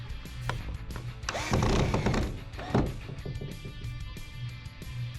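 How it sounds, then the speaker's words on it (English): A power drill drives screws into boards, whirring in short bursts with a louder middle stretch as the screw seats, close by, with no talk over it. "Now I'm going to add 4 more screws in between on either side so it's holding both boards."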